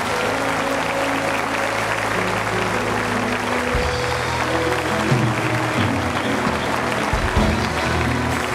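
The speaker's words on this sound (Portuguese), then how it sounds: "Você pode aplaudir a Jesus?" A church congregation applauds during an evening service, a dense, steady wash of clapping that fills the whole stretch at constant loudness, with a low hum or music underneath.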